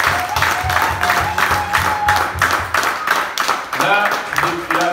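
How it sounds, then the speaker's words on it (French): Church congregation clapping in a steady rhythmic beat throughout, dense and fairly loud, with singing voices and cheering mixed over the claps. "Applaudissons pour notre"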